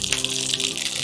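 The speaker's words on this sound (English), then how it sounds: "so add a little bit of water" Water poured into a hot pan of browning butter gives a loud, continuous hissing gush that holds steady for a second, with a faint hum underneath.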